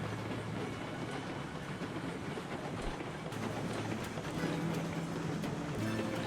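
A double-headed steam train rolling along track in Railroads Online, a steady low rumble with rhythmic clickety-clack of wheels over rail joints, continuous and moderately distant.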